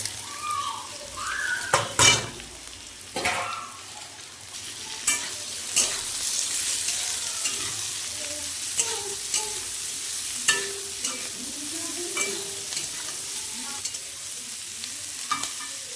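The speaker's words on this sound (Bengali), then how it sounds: "পেঁয়াজ লঙ্কা দিয়েও একটু ভেজে নিয়েছি" Onions and green chillies fry with potatoes in a pan for a small-fish curry, giving a constant sizzle under frequent stirring, with metal spatula scrapes and clinks against the pan at irregular intervals.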